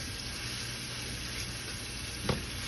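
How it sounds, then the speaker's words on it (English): Steady sizzling of food sautéing in a hot pan for Jamaican saltfish, a continuous close hiss with one brief stir or clatter near the end. "it's been sauteing for a couple of minutes, about maybe 3 minutes"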